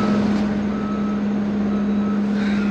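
A dumper truck gives steady, loud reversing beeps, a continuous electronic tone running throughout with engine rumble beneath and no talk.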